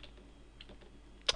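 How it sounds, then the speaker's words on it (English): Arrow keys on a computer keyboard are tapped a few times softly, then one sharper, louder keypress comes near the end against a quiet background. "to actually move my character, I'm just using the arrow keys on the keyboard"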